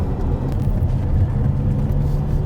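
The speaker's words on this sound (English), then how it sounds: "We just thought we'd take the car for a drive." Ferrari 512 TR engine on a drive around the block, a steady low rumble heard from inside the car, loud and constant with no break and no speech.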